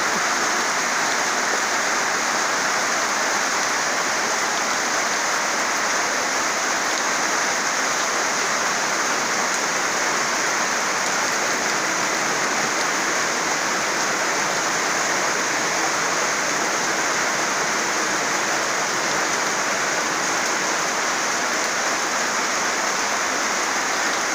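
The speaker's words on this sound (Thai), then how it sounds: "ฝนรั่ว ฝนรั่วฝนสกลนครระเบ้อพี่น้อง ฝนตก ฝนตก" Rain falls hard and steady over fields in Sakon Nakhon, Thailand, producing an unbroken, even wash of noise that stays loud and close throughout without any speech.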